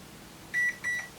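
UNI-T UT612 LCR meter giving a double beep: two short, clear electronic tones in quick succession over a faint hum, close and alone.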